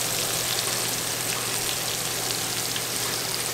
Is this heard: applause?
no